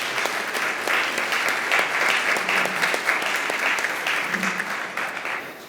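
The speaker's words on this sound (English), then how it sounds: "let's give all the entrepreneurs a big round of applause." An audience at a medtech startup pitch competition applauds the entrepreneurs, with dense, steady clapping from many hands holding up close for nearly six seconds before tapering slightly at the end.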